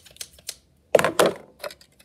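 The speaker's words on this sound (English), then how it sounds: "Scissors." Scissors cutting paper while a paper basketball hoop is made, a few crisp, close snips and rustles separated by brief pauses.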